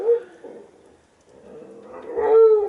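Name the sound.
dog barking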